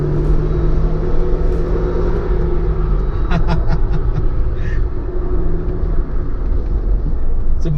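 A 2020 Jeep Wrangler Rubicon driven on small roads gives a constant, loud low engine and road rumble from inside the cabin, steady throughout with light tyre and wind noise on top.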